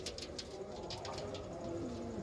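Pigeons coo softly in low, rolling tones, quiet and steady against a faint background hum.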